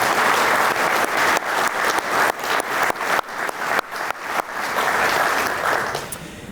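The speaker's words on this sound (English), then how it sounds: "this team of people deserves a round of applause" An audience at a State of the City address bursts into loud, sustained applause that builds, carries on for several seconds and then tapers off.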